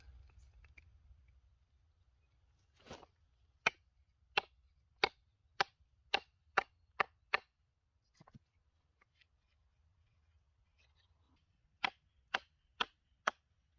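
An ESEE Gibson Pinch knife is batoned through wood in a run of sharp, distinct wooden knocks, nine quick strikes, a pause, then four more, close and clear against a quiet background.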